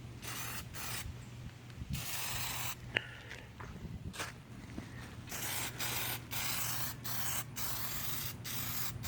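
Plasti Dip is sprayed in a thick third coat onto a car grille, aerosol bursts hissing in repeated short and long blasts with brief gaps and a few small clicks between them.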